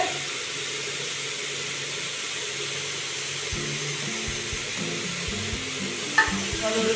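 Marinated paneer sautéing in a pan, a continuous close sizzle, then a run of soft knocks and scrapes as it is stirred, with one sharper clink near the end.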